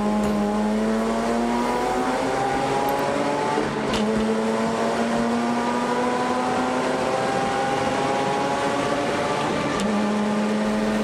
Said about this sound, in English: Civic with supercharged V10 engine, and the whine of this car is just sounds amazing